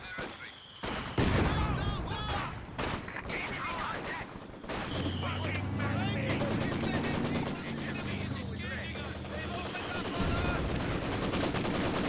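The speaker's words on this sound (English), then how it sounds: "Looks like he's putting a barrage onto this Maxim." Mortar barrage and gunfire in a Company of Heroes 2 multiplayer battle: dense, continuous crackling fire and booming low impacts throughout, with heavy rumbling explosions building from the midpoint, a commentator talking over it.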